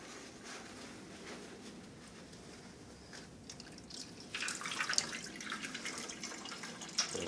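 Wort drains from a brew-in-a-bag grain bag while brewing a wit beer, a faint steady trickle of liquid with scattered drips that grows louder and splashier toward the end.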